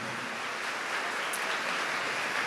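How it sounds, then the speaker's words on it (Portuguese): Dense, steady applause from a large audience at a Catholic church camp, a continuous broadband patter of many hands sustained throughout at moderate distance. "Pode aplaudir, pode aplaudir."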